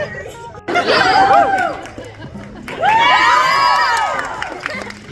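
Live show audience, many young voices, cheering and shouting in two loud bursts, the second long and sustained, with chatter and laughter in the quieter moments.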